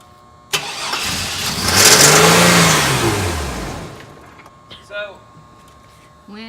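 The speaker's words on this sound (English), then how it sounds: "So it doesn't matter how much I rev it." A car engine with a suspected computer code fault starts, climbs through a strong rev and then falls back to a lower note, followed by brief voices nearby.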